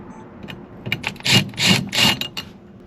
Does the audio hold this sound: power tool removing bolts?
yes